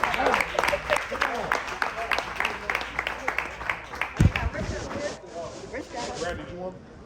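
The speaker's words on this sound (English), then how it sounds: "Clap it up for the panel one time." An audience applauding a panel, rhythmic clapping rising under a voice talking over it, then fading as the clapping thins out.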